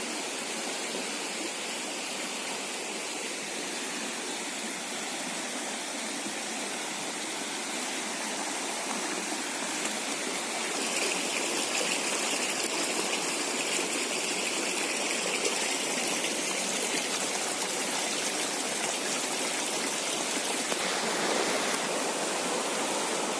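Flowing water of the Sungai Bangu river rushes in a steady, broad, loud wash that continues without a break and swells slightly midway, with no voices.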